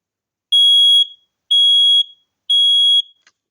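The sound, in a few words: Kidde i9040 EU smoke alarm being tested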